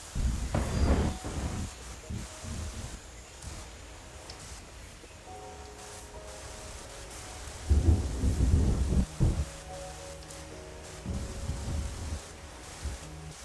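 Deep rolling thunder rumbles in loud bursts over a steady patter of rain during a thunderstorm in the video game Terra Nil, with faint tonal game music lines drifting underneath.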